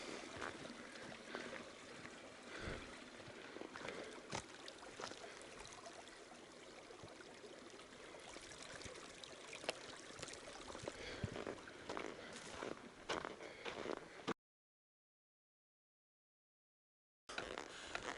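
Fiddler Creek runs beneath a footbridge on the Colorado Trail, a steady, faint rushing and trickling flow, with a silent gap near the end.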